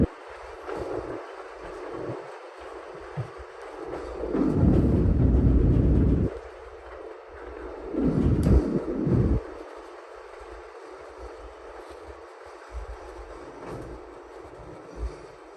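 A JR Hokkaido train pulls into Higashi-Nemuro station, Japan's easternmost station, rumbling loud and close in two heavy surges over steady background noise, with no talking.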